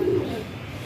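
Pigeons cooing in a flyers loft, a low soft rolling coo close by, steady and continuous with light background murmur.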